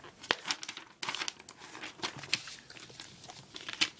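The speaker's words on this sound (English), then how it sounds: "fold it in half, keep it in half" A sheet of paper being folded into a paper airplane, with close, crisp crinkles and sharp creasing snaps in irregular bursts, heard alone without talk.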